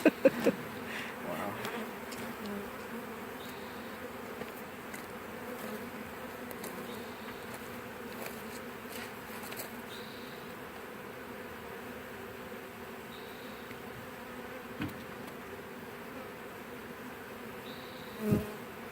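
A honeybee swarm hums steadily as it is hived, a close, continuous buzzing drone with a few louder bees passing near and occasional knocks and bumps.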